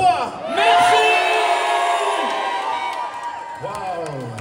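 A festival audience at a cosplay parade, the Troyes Japan Otaku Festival, bursts into loud shouting, whooping and cheering, a sustained close roar that slowly tapers over several seconds.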